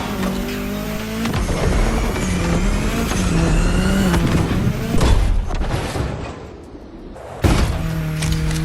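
Race cars tearing along in The Crew Motorfest, loud revving engines rising and falling in pitch as gears shift, with tire squeal, a brief lull, and a sudden burst of acceleration near the end.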